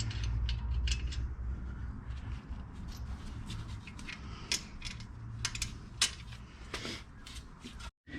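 Hand tools work on a Jeep Renegade's suspension during a 2-inch lift install, sounding as a run of sharp ratchet clicks and metallic creaks in irregular bursts, up close and alone.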